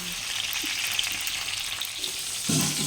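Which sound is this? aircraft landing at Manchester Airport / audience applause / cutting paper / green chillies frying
green chillies frying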